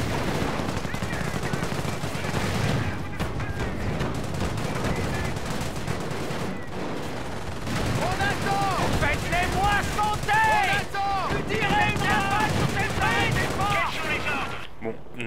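Machine-gun bursts and scattered gunfire from the World War II strategy game Company of Heroes: Opposing Fronts, during the liberation of Caen, rattling continuously under battle noise with voiced game dialogue mixed in.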